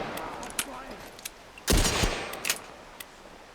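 A gunshot from the video game The Last of Us Part 1, one loud burst in the middle with a few fainter pops around it, amid quiet game sound.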